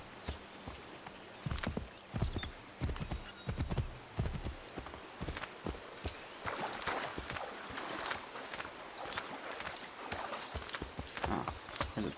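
Horse hooves clip-clopping in a steady walking rhythm in Assassin's Creed III, with a brief whinny partway through; close and fairly loud, with no talking.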